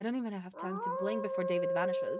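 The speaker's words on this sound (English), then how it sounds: "we hear a wolf howling" A wolf's howl rises briefly at the start, then a close voice talks over it, with the howl's drawn-out tone partly masked beneath the speech.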